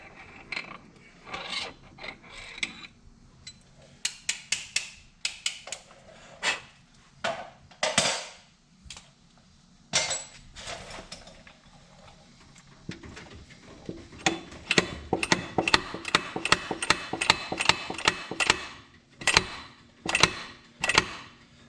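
Clutch being knocked off a 2021 Polaris RZR Pro XP with a slide hammer, its own spring serving as the hammer, while fitting an Aftermarket Assassins S3 clutch kit: repeated sharp metallic clacks and rattles, irregular at first, then faster clustered strikes, close by.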